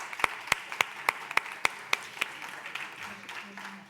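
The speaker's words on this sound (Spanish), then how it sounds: "Un aplauso para ellas" Sparse, fairly quiet applause from a conference audience: about eight distinct, evenly spaced claps, then a soft murmur of room noise.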